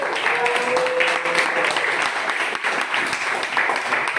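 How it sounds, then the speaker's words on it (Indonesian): Applause from a small group in a class fills the whole stretch, steady and moderately loud, with a voice briefly audible underneath. "Tepuk tangan dulu dong buat kita semua"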